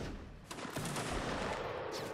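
Musket volleys crackle in a Napoleonic Wars line battle, a dense run of overlapping shots rolling steadily for two seconds with no voices over them.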